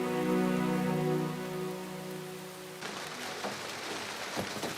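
Steady rain falls in a broad, even wash that shifts partway through into a sharper patter of drops striking a surface, with no voices present.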